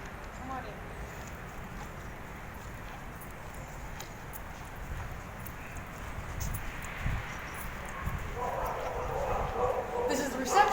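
Dogs bark in kennels at an animal shelter, scattered yaps and barks rising from the distance amid a busy room, growing busier toward the end, with people talking over them.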